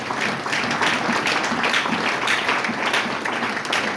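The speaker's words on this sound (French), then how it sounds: "Est-ce qu'on peut acclamer très fort la parole de Dieu?" A church congregation at a Sunday worship service in Pointe-Noire applauds loudly, with dense, sustained clapping that holds steady for several seconds.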